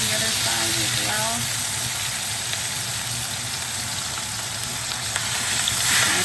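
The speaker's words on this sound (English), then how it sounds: "I'm going to check the sear, and then sear the other side as well" A steak searing in a hot pan makes a steady broadband sizzle at moderate level, with a brief voice early on.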